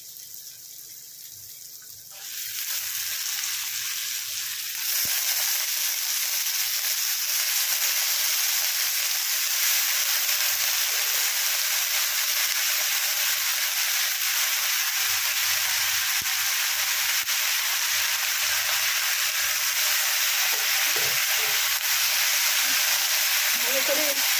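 Potatoes frying in hot oil in a pan for a prawn curry, a loud, steady hiss and sizzle that swells after the first couple of seconds and holds throughout, close up with no talk.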